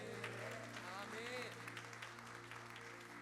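A church congregation applauds during a New Year's Day Sunday worship service, a soft wash of clapping blended with lingering sung or spoken tones in a reverberant sanctuary.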